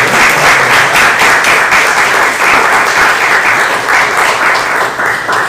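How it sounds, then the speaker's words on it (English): A loud, close round of applause from a congregation at a Dharma family service honors the Dharma school teachers. Many hands clap in a dense, continuous patter that stays strong throughout. "let's give a round of applause to our Dharma school teachers for sharing this"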